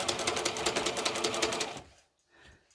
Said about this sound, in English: just slow and steady do a 1/4 inch seam all the way around